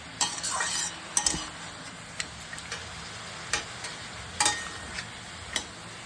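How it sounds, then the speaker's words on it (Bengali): Red amaranth greens with chickpeas, potatoes and raw turmeric fry in an uncovered pan, a soft low sizzle broken by sparse sharp clicks of a spatula stirring against the metal, with no talk. "ঢাকা দেবো না, বিনা ঢাকাতেই ভাজা করবো।"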